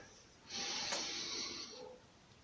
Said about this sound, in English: And the closing exercise, we're breathing in.